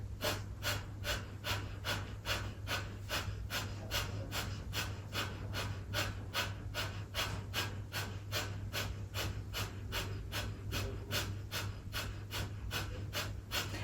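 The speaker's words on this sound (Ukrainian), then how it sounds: "І ми починаємо дихати." Breath of fire, the rapid kundalini yoga breathing driven by the diaphragm, a fast, even run of sharp nasal exhales, roughly three per second, close and steady for the whole stretch, over a low constant hum.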